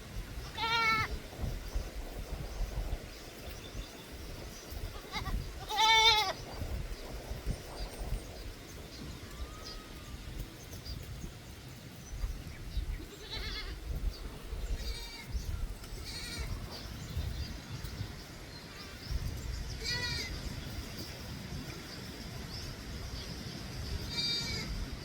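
Goats bleating in hot weather, several distant calls rising now and then over a steady outdoor background, with scattered bleats from different animals spread across the stretch and no nearby talk.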